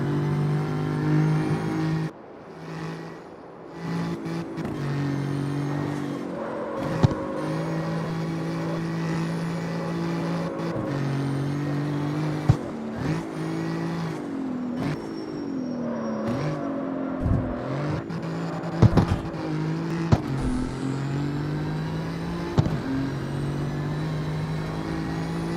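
Steady engine drone with a rising and falling pitch from a car in the CarX Street racing video game, with gear shifts and revving, loud and continuous throughout.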